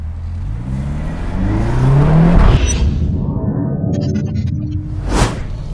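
A BMW X5 M with a 4.4-litre engine accelerating hard, a loud, deep roar climbing steadily in pitch through the gears, with a brief shift dip and a sharp transient near the end, heard continuously without talk.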